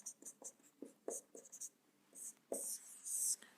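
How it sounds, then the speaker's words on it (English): Chalk or marker strokes writing an equation on a board during a linear algebra lecture, a string of short scratchy taps and longer scrapes, close and fairly quiet. "Let me write it here."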